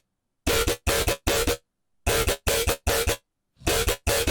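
A dry, unprocessed dubstep main bass synth plays as seven loud, gritty, buzzing bursts in choppy groups, separated by silent gaps.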